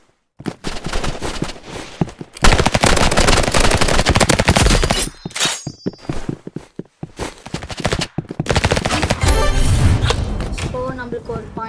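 Rapid bursts of Uzi fire from a Roblox Rivals match, loud and close, firing in repeated sustained volleys with short gaps and occasional isolated shots, with faint footsteps between bursts.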